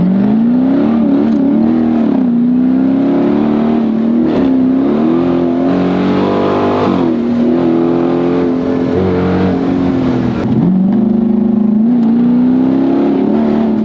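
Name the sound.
Chrysler 300 Scat Pack car engine revving while driving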